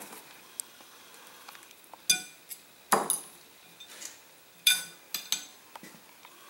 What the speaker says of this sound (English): Alright, so now we're going to take the extractor out.